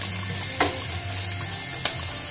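Pepper chicken frying and sizzling in a pan, with a steady loud hiss and a couple of sharp scrapes as the pieces are stirred, no talking.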